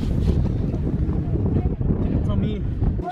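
Wind and rain batter a steep mountain plank trail on Huashan, a constant loud rushing gust on the microphone with someone talking through it.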